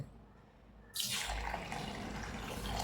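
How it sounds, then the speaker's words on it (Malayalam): Water poured over a cup of biryani rice to soak for egg mandi, a quiet moment and then a sudden loud gushing pour that runs steadily to the end. "അത് നമുക്കൊന്ന് കുതിർക്കാനായിട്ട് വെക്കാം കേട്ടോ വെള്ളം ഒഴിച്ച്"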